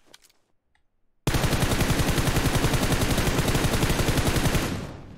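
Sustained automatic gunfire in the shooter game PUBG Mobile, a loud, close, rapid unbroken burst starting abruptly after a near-silent moment and running several seconds before tailing off.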